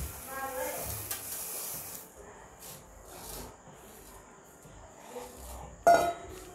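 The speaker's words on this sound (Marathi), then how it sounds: "थोडी कोथिंबीर टाकूयात आणि त्याच्यावरती तांदूळ टाकूयात हे जे आपण मोजून घेतलेलं आहे ते त्याच्यावरती टाकायचं आहे" Measured rice is poured over coriander in a pot for vegetable biryani, making a soft, grainy rustle and scrape, followed by a brief sharper knock near the end.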